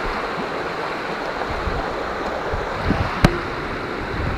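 Water rushing steadily along a creek, a continuous broadband wash heard up close, with a brief sharp knock near the end and no voices.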